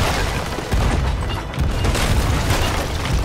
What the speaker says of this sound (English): We'll do full broadside.